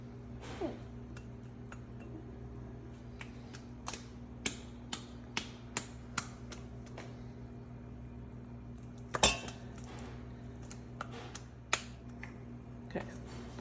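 A fork clinks against a bowl while a cheese mixture is creamed together for a triple cheese spinach bagel, giving scattered light metallic taps and scrapes over a low steady hum, close but soft.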